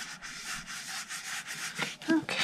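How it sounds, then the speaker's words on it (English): A bone folder or burnishing tool rubbed firmly over paper on a handmade graduation gift card holder, giving steady scraping strokes in a quick repeated rhythm, close and moderately loud. "Let's give that a little more burnish."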